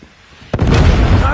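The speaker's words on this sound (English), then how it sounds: "Friendly Predator missile inbound." A Predator missile explosion in a military shooter video game hits suddenly after a quiet second, a loud broadband boom that rolls on as a sustained rumble.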